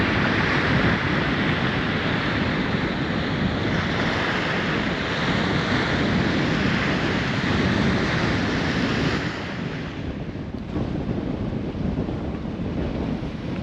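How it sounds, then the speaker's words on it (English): Strong, steady wind near Darwin, Australia, roars across the microphone beside crashing surf, a continuous broadband rush that eases slightly near the end. "Very windy."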